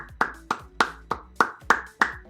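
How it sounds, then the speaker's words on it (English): An audience applauds a trivia contestant named Josh with a run of sharp, evenly spaced claps, fairly close and alone, with no voices. "Big round of applause for Josh."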